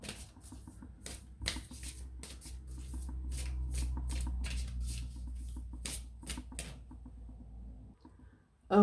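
Tarot cards are shuffled by hand in quick riffling bursts, crisp close-up flicks and slaps repeating irregularly over a soft low hum, ending with a brief bump.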